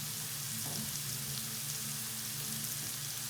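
Celery and poblano pepper hit a hot pan of dirty rice aromatics, giving a steady, even sizzle and hiss throughout with no voices.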